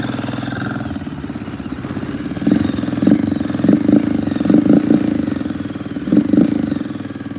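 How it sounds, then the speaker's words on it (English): An ATV engine idles loudly and close as it warms up, with a steady low chugging rumble and periodic rattling knocks pulsing through it. "It is idling."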